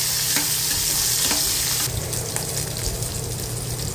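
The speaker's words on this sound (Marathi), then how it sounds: "मिरच्याही व्यवस्थित आपण तेलामध्ये परतून घ्यायच्या आहेत आता लिंबाच्या फोडी पण टाकून घेते तेही सगळं आपण व्यवस्थित परतून घेऊया" Chillies and lemon pieces frying in hot oil for a bitter gourd (karela) dish, with a steady loud sizzle and the repeated scrape of a stirring spoon throughout, no voices.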